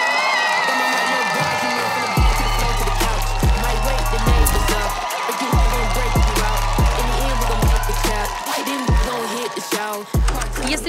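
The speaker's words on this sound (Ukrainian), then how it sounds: "Ваші оплески." A live audience at a battle show greets the next duet with sustained crowd noise, cheering and whoops over steady loud music with a pounding beat, continuing for the whole stretch.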